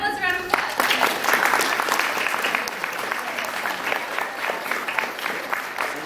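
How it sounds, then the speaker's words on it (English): A convention audience at a game industry panel claps in a lively burst after a short spoken line, the applause dense and close at first, then thinning gradually over several seconds. "I just want to give you guys a round of applause"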